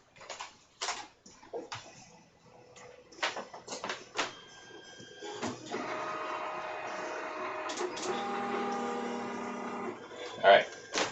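A 3D printer prints plastic parts: soft scattered ticks and taps, then from midway a steady whirring motor whine with shifting pitched tones, fairly quiet and close.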